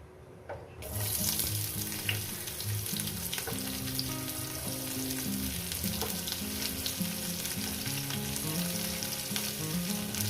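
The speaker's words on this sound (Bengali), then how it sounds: "এরপর দিয়ে দেবো আমি পেঁয়াজ কুচো" Chopped onions sizzling and frying in hot oil with bay leaves and ground spices for a rohu fish curry with potatoes, a steady loud crackle with occasional stirring scrapes close up.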